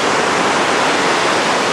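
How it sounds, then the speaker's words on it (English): Ocean surf at a beach shortly before a storm, a steady broadband wash of breaking waves filling the whole stretch, loud and continuous with no voices over it. "And then let's look at the waves."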